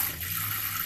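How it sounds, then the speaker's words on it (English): Water pours steadily from a foot pump into a camper sink in a 2002 Chevy Suburban Z71 camper, a close, continuous splashing rush with no talking. "And here's how good the foot pump works."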